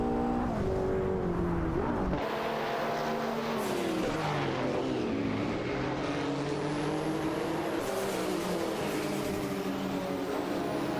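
Several race cars duel closely in a video game race, their engines a loud continuous whine that swoops up and down in pitch as they accelerate and pass one another, with no voices.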